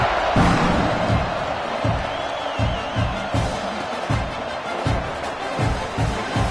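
A football stadium crowd buzzes just after a score cuts the lead to 10-7 before the kickoff, a loud, steady roar of voices broken by repeated rhythmic thumps and scattered cheers.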